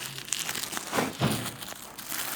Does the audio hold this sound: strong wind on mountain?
no